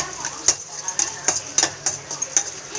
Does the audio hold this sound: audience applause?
no